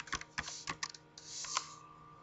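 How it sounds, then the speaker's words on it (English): Rapid close-up typing of a web address on a computer keyboard, a quick irregular run of crisp key clicks in a quiet room, alone. "And type in ciscolearn.more.com."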